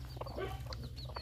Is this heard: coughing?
no